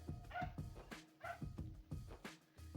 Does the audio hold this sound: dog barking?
yes